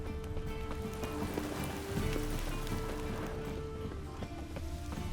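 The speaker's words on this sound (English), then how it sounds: "And it's raining again." Rain falls steadily in The Witcher 3 on PS5, a dense, even hiss of drops on surfaces that holds at a constant level, with faint tonal game music or ambience underneath and occasional brief taps.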